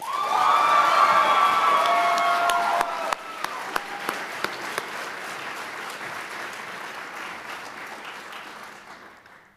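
An audience at a leadership awards ceremony applauds an award recipient, with sustained clapping and some cheers that taper off gradually.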